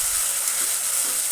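Onions sizzle and fry steadily in a hot pan, a continuous close hiss with faint crackle and no voices.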